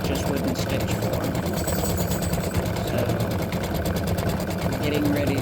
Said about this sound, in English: So I'm getting ready to do the satin stitching around the body.